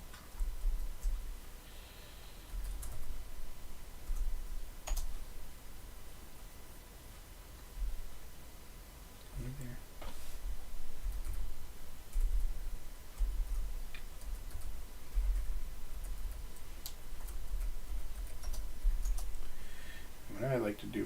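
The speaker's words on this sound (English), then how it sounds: "Down to typing with one hand now." Keys clatter on a computer keyboard during a live open-source coding session, typed one-handed in a steady, irregular patter at close range with occasional louder clicks and soft background hiss.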